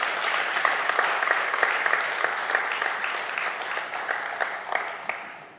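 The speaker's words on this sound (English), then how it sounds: "So let's give him a round of applause." Sustained audience applause at a business mentors conference, even and fairly loud throughout with dense overlapping claps, no talk over it.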